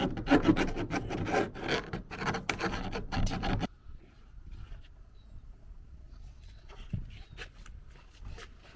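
A brush rasps back and forth as rust treatment paint goes on under a Peugeot Boxer van, loud and scratchy for a few seconds, then softer, sparse scraping with occasional knocks.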